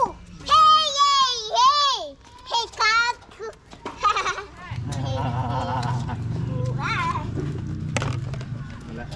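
Goats at a safari zoo in Kanchanaburi, Thailand, bleat loudly and close by in a few wavering calls, followed by children and adults talking over a steady rumble of background noise.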